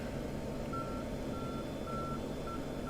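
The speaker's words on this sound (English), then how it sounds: "You can hear the little beep" A small cockpit warning beep from an F-16 in the DCS flight simulator sounds as short, regularly repeating tones over a steady engine and cabin drone, with no talk.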